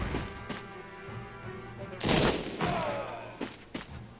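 Artillery barrage in the video game Banner of the Maid, a few heavy booming blasts with a loud burst midway, mixed with game voices and someone talking over it.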